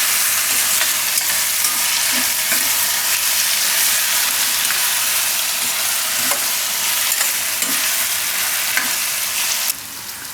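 Eggplant cooking with turmeric and salt in a hot pan, giving a loud, steady sizzle with occasional stirring scrapes, no talking, and the frying noise dropping slightly near the end.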